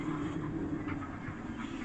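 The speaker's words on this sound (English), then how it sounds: "I've got locomotives that can't pull things" A model railway locomotive runs along its track on a layout, giving a quiet, steady mechanical hum with faint rolling clicks over a couple of seconds, and no one speaking.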